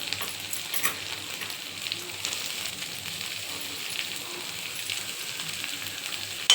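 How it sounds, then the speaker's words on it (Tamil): Onions sauté, sizzling and crackling steadily in a hot pan while making grilled chicken thokku, a continuous frying hiss with no talking. "வெங்காயம் நல்லா வதங்கட்டும்."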